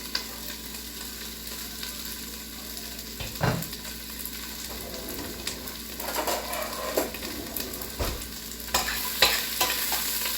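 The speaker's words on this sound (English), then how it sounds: "Get that nice sizzle, if you can hear the sizzle." Onions frying and being stirred in a hot pot over medium to medium-high heat, a steady soft sizzle broken by a few scraping stir strokes, close and fairly quiet, with no talking.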